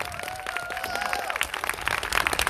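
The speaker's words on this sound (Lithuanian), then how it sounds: "plojimai" An audience claps and cheers for a literary guest at an outdoor courtyard reading event, a dense, steady patter of many hands with a voice briefly rising through the crowd noise.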